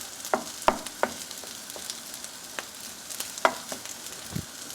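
Eggs and rice fry in a pan over high heat, giving a steady close sizzle broken by sharp scraping clicks and taps as the food is stirred, with no talking.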